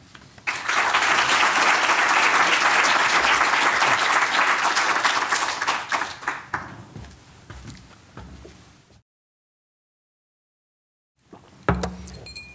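A lecture audience bursts into loud, sustained applause welcoming a professor, many hands clapping steadily before thinning out and fading, followed by silence and then a brief thump as someone nears the microphone.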